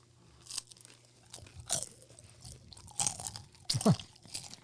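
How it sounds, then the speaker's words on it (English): Crisp egg rolls being chewed up close, with several loud crunchy bursts spaced a second or so apart and quieter munching between them. "for those of you listening to the audio, Hey. you're gonna hear us chewing."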